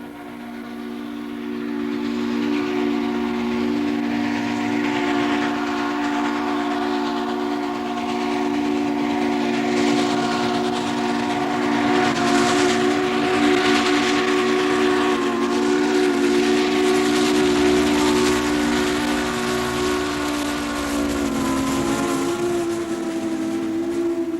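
A steam excursion train near Chattanooga rumbles at a distance while a long, steady whistle blows with layered tones, sustained over the chugging and clatter.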